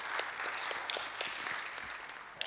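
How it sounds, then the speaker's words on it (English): Youth summit delegates give a round of applause after a policy debate session, a moderate, somewhat thin and distant burst of clapping with scattered individual claps. "Give yourself a round of applause."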